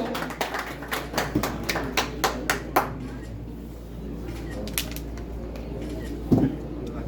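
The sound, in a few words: audience applause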